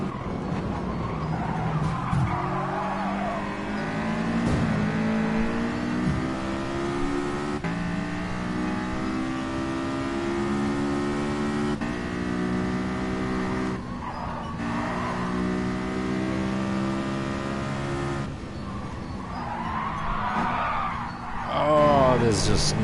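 A car slides and skids in the Gran Turismo racing game, with tyre squeal riding over a steady, loud engine drone that runs throughout.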